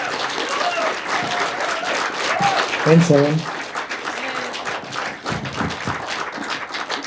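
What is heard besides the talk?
audience applause for filmmakers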